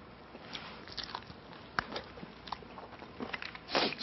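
Crunchy bites into seasoned fried chicken, close and fairly faint, with several irregular crisp crunches and chewing noises and no talking.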